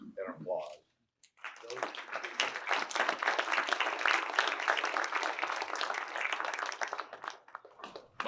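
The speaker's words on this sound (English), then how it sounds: "So give all of you selves an applause." Lively applause for volunteers at a board recognition ceremony rises after a brief voice and pause, dense rapid clapping sustained for several seconds before tapering off.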